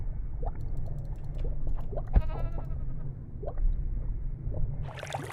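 A single close sheep bleat in a video game rings out sharply around the two-second mark, with a wavering tone over low rumbling game ambience, a few soft thuds and a brief hiss near the end.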